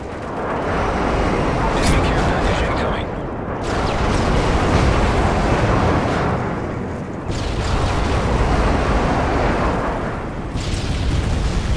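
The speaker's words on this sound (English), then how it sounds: "Enemy airstrike approaching." Airstrike explosions in Call of Duty Modern Warfare 3 roll in as loud, sustained waves of booming rumble, each swelling and fading over several seconds.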